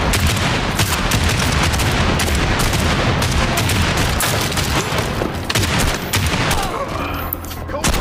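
Gunfire in the Reach video game comes as dense, loud bursts of shots and booms, heavy and continuous, with a voice speaking briefly amid the firefight.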